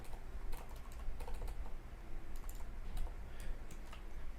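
Fast, irregular clicking of a computer keyboard as someone types HTML code, with close, steady keystrokes over a low background hum and no talking.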